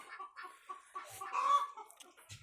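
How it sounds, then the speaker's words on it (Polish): A turkey gives a fast, bubbling, rattling gobble, close and fairly quiet, with a few softer clucks around it. "indyk już bajeruje"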